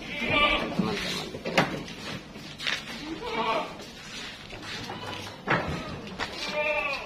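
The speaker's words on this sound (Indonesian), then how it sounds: "Menyediakan kambing sehat." Healthy goats bleat repeatedly during a livestock delivery, several wavering calls near and loud amid shuffling and occasional knocks, with people talking in the background.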